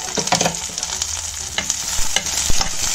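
Chopped onion, garlic and ginger sizzle steadily in a hot pan, with a continuous bright frying hiss broken by scraping stirring strokes and a few sharp clacks of a spoon against the pan, close and fairly loud.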